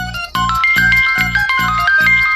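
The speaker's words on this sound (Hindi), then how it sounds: "ये बार बार माँ का फोन आ रहा है" A phone rings with a bright electronic ringtone, a repeating chiming melody of quick tonal notes, loud and close with no talking.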